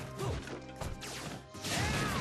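Link's aerial smash attack in Super Smash Bros. Brawl lands with a heavy crashing hit, followed by whooshing sword effects and a swelling burst of game noise, loud and close with no talk.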